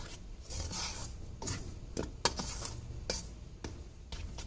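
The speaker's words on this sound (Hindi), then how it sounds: "इसको करते हैं एक बार मिक्स" Spiced wheat flour batter with turmeric and asafoetida being mixed in a bowl: scraping and rubbing strokes of a spoon against the bowl, repeated in short bursts with sharper clinks, close and alone.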